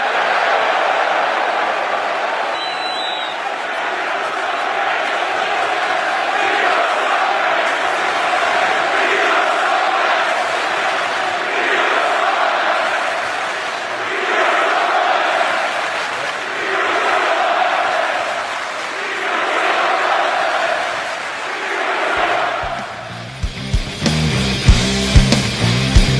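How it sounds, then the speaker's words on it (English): A wrestling arena crowd shouts and roars steadily, a dense wash of many voices swelling in rhythmic waves of chanting, loud and continuous, breaking into clattering noise at the very end. "it's essentially the same unappreciative crowd full of scumbags from last night"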